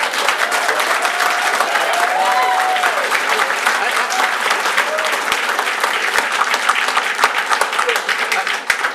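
Dense, sustained applause from the audience at a city council meeting fills the room steadily throughout, with a few voices and cheers mixed into the clapping.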